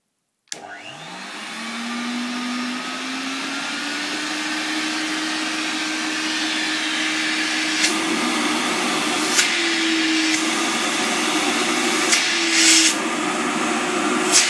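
A 1983 Hoover Sensotronic Total System 5 vacuum cleaner starts up and runs with a steady, loud motor whine and airflow hiss that rises in pitch and holds. Brief clicks and surges of suction break in toward the end.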